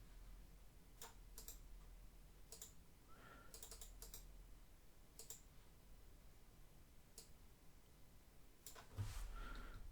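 Someone types a prompt on a computer keyboard, leaving scattered, quiet clicking keystrokes in uneven bursts over a hushed room, without speech.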